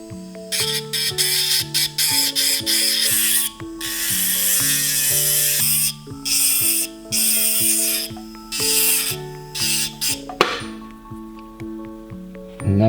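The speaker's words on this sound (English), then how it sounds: "The first step is going to be to remove the sprue in the purple state with our diatrim sintered diamond." A sintered diamond bur grinds a sprue off an E.max CAD ceramic crown in its purple state at slow speed, under 10,000 RPM, giving loud, shrill whining bursts that start and stop repeatedly.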